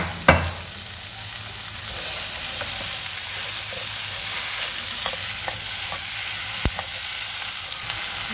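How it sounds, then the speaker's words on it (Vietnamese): Chopped vegetables hiss and crackle in a pan with a little fried garlic oil, stirred with occasional utensil scrapes and knocks, steady and close, with no talk. "Cho tất cả những cái rau mình đã cắt vào xào lên."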